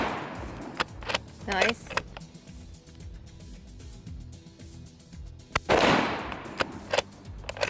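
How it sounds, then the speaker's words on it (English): Shots from a Mossberg MVP LR rifle on a range ring out as sharp, loud cracks spaced several seconds apart, with people talking quietly between them. "I sure like shooting the Mossberg MVP LR."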